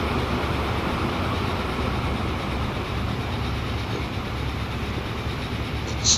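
A train runs in the video game Transport Fever 2 with a steady, moderately quiet rumble and rolling rail noise that holds evenly throughout, with a small click near the end.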